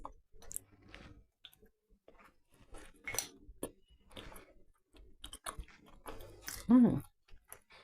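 Someone eating a hot cross mug cake from the microwave, with soft close chewing and small mouth clicks spread across the stretch, with brief talking mixed in.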